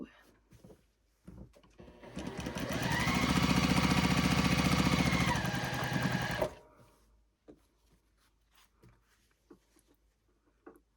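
A sewing machine runs in one steady burst for about four seconds while chain piecing quilt squares, then stops, followed by quiet handling sounds.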